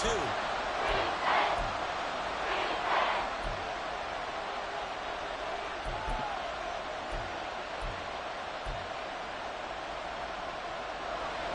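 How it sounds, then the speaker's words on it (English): A football stadium crowd roars and builds in a steady wash of noise, with sharp rhythmic bursts and claps standing out through the din. "This crowd turning up the decibel level."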